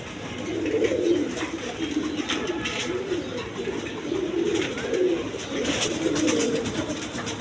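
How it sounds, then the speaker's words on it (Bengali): Big-size Kaldom pigeons coo in repeated low, throaty rolls, several birds close by and overlapping, amid steady background noise and scattered clicks. "একদম বিগ সাইজের নিউ মডেল কবুতরটা"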